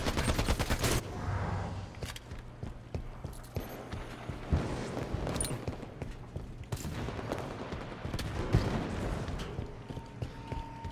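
Halo 5 gunfire crackles in a free-for-all match, with sharp single shots and short bursts scattered over a busy background of game effects, at moderate loudness.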